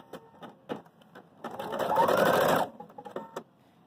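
An embroidery machine stitching an applique starts up with a few ticks, then a dense mechanical whir for about a second before stopping, followed by light clicks.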